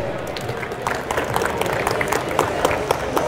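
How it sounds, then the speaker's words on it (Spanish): A conference audience claps for an arriving speaker in a dense burst of applause, many hands close by and steady over a few seconds. "Un aplauso, por favor."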